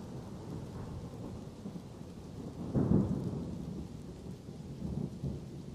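Low rumbling thunder rolls under a steady hiss of rain, swelling into a louder crack-and-roll near the middle and a smaller rumble toward the end, with no voices.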